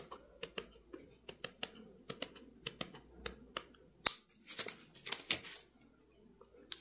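Scissors snip through plastic canvas while a micro bag is being made, giving a series of sharp, close clicks in an irregular rhythm, with a quick burst of cuts toward the end.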